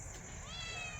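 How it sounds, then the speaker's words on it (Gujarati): A cat meows once or twice at close range over steady low background rumble, with a person's voice nearby. "મ્યાઉ મ્યાઉ કરે હવે."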